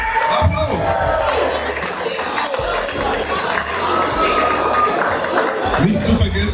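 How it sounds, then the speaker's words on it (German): An audience at a strongman beer-keg lifting championship claps and cheers for a 170-kilo contestant. The crowd noise is steady and fairly loud, running beneath an announcer's voice that talks throughout. "Applaus!"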